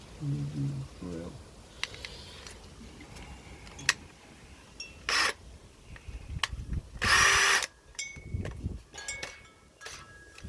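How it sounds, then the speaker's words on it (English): A power drill bores holes while a jail bar is fitted on a VW, coming in short bursts between tool clicks and handling noises, with people talking nearby. "we're just going to drill the same holes"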